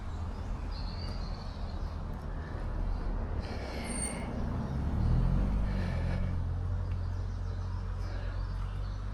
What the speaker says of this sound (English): get away from the noise of cars, the drone of traffic